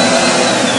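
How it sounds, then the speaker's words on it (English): Vacuum motor of a Steamin Demon carpet extractor running, a loud, steady, close whine and roar with no change in pitch across the brief span, heard alone. "It turns the vacuum motor on."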